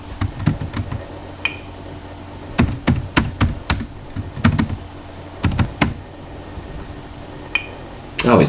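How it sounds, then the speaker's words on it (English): Typing on a computer keyboard while adding text in Photopea, with bursts of crisp close key clicks in irregular clusters and short pauses between them. "Right, let's type anyway."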